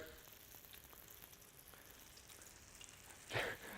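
Phyllo parcels frying in hot oil in a wok on an induction hob give a soft, steady sizzle, with a brief louder crackling burst near the end.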